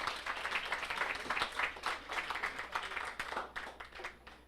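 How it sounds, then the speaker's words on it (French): Audience applause at an annual optimist club brunch in Charlevoix, a steady round of clapping from a seated crowd lasting several seconds at moderate loudness. "une bonne main d'applaudissements"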